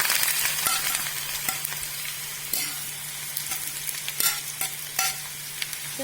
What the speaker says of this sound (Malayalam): അതിലേക്ക് സവാള ചേർക്കാം.